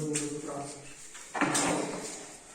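A drawer for wardrobe furniture being fitted is handled in a room. There are a few short scrapes and thuds, then a longer sliding rasp and a knock at the end. A voice speaks in between.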